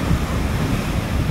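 Sea waves washing onto the shore at Ravda, a continuous loud roar of surf mixed with wind buffeting the microphone, with no voices.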